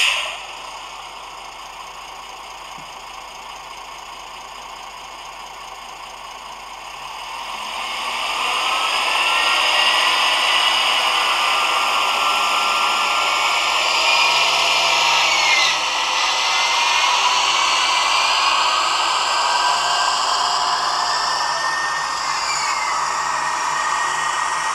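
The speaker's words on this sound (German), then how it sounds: "F3, der Raucherzeuger." ESU KG230 model locomotive's smoke generator running as a steady hiss and whir, growing louder after a few seconds and then holding a continuous fan-like drone with no talk.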